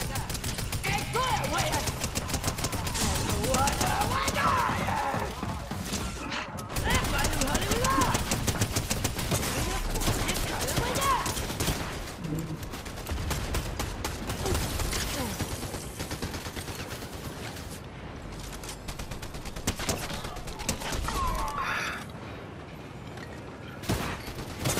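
Dense, continuous gunfire from the Fortnite video game fills the whole stretch, with sustained volleys and booms layered into a busy, loud mix while a player talks throughout.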